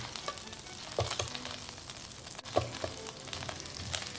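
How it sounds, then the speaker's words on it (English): Drained potato slices for green bean rice (loobia polo) fry in a hot buttered pan, giving a steady close sizzle with occasional clinks and stirring taps, and no talk. "I did drain my potato and I'm gonna put them in a hot pan"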